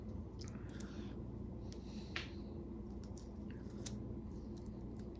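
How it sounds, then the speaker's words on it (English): A knife cuts carrots into quarters on a cutting board, giving crisp, irregular clicks and snips that sound fairly faint and close over a low, steady background hum. "sometimes I like to cut them like in fours, just so they cook well"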